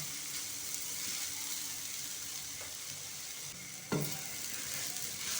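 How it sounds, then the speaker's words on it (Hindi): Semolina halwa being roasted in a pan over medium heat while a spoon stirs steadily through it, breaking up lumps; a soft continuous sizzle runs throughout, with one sharper scrape of the spoon against the pan near the end. "इस तरह से मुसलसल चम्मच चलाते हुए हमने इसे पकाना है ताकि इसकी जो गुठलियाँ हैं वो अच्छी तरह से साथ ही साथ टूटती जाएं"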